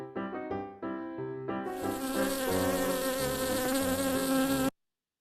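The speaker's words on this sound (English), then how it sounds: "You remembered it wasn't a real bee that time" A bee buzzing sound effect used in a stop-motion intro, a steady loud droning buzz over layered tonal music, building in after a few plucked notes and cutting off abruptly, with no talk.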